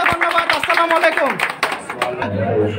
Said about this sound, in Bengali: হাত তালি হবে আরেকবার ভাইয়ের জন্য